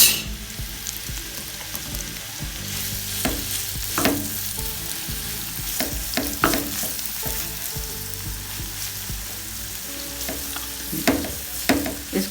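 Onions fry in hot oil in a pan, with a continuous close sizzle and the clack of a spoon stirring and scraping now and then.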